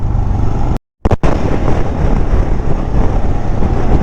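Motorcycle cruising fast at around 90-95 on an open highway between Pune and Dandeli, with steady loud engine and wind rush that drops out completely for a brief moment before resuming.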